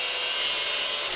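A piece of metal being cut off during a steering shaft repair on a Corvette C4, a brief, harsh, continuous hiss of cutting that stays steady and close for about a second.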